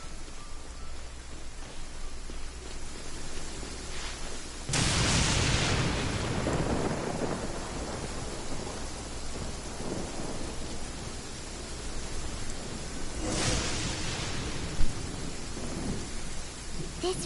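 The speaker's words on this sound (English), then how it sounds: "If this rain keeps up, my fur will be dripping wet." Steady rain hisses throughout in the video game Genshin Impact while two deep rumbles of thunder roll in, one mid-clip and another near the end, with no talking.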